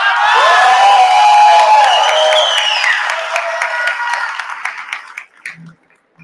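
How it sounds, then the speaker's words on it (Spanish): A graduation ceremony audience applauds and cheers loudly with whoops and shouts. The clapping thins out and fades into a few scattered claps near the end. "Brindemos un gran aplauso"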